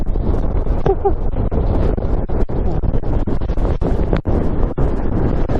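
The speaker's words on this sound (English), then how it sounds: "Just too windy and too cold." Strong gusting wind buffets the microphone on the exposed summit of Great Dodd in the Lake District, a loud, continuous low roar with brief dropouts.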